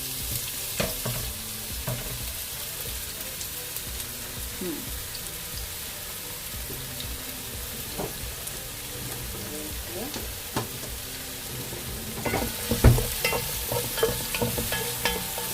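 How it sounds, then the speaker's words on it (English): Steady sizzling of onions frying in hot oil, with occasional scraping stirs and light clinks, close and continuous throughout. "So while I'm frying the onions"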